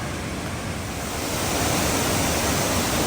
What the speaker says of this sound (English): the waterfall is going to be very high flow